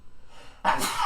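A single sharp sneeze bursts out near the end after a brief quiet intake, close and fairly loud.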